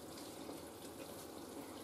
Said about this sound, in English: I think it's filling the hot water purely now.